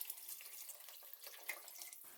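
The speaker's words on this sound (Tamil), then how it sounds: "இதை ஃபுல்லா சேர்த்துட்டு சாம்பாருக்கு தேவையான அளவு தண்ணி," Tamarind water pours into a pot of sambar being cooked for idli, a steady trickling splash that runs close and continuous for about two seconds with no voices.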